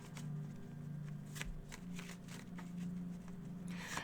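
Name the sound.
shuffling tarot cards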